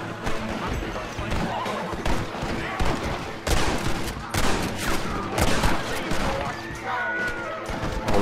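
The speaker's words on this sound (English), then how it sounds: "Oh, this is a crazy shootout in the forest." A chaotic forest shootout with horses in the Red Dead Redemption video game: dense, continuous gunfire crackles with horse whinnies and hoofbeats mixed in, loud and busy throughout, with a voice talking over the action.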